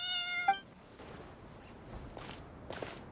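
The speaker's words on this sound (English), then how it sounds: "Even a passing cat can't help but stop in its tracks and look up in anticipation." A cat in Genshin Impact gives a single short meow, followed by quiet soft footsteps and light rustling, close and without talk.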